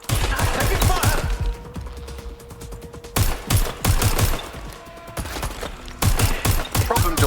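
Gunfire in Watch Dogs Legion: rapid automatic bursts of shots come in several loud, close volleys separated by quieter gaps, with dense rattling fire throughout.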